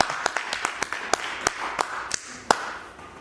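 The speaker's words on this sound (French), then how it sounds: "il y a mon président qui va applaudir" Applause at the end of a French physics talk on neutrinos, a short run of separate sharp hand claps close by, uneven in rhythm and thinning out over about three seconds.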